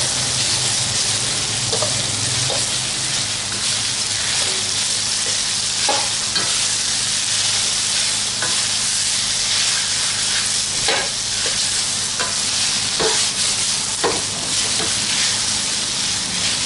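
Washed salted fish fries in hot oil, alongside fried tilapia for a sambal dish: a loud, dense, continuous crackling sizzle close up, with occasional stirring scrapes and no voices.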